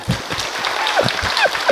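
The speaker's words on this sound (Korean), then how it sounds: "박수 좀 해주면 안 될까요?" An audience applauds at a Korean reading-campaign event held with Soongsil University, a dense, steady patter of clapping with a few higher whoops or whistles rising through it.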